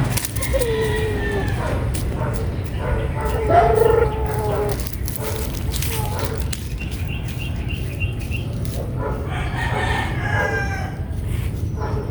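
A Kelso White gamefowl rooster crows close and loud, with a long drawn call and then further crows and clucks nearby over a steady background hum.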